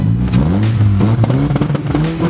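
A Camaro SS V8 engine revs repeatedly up and down close by, loud and throaty, with rising and falling pitch and no talk over it.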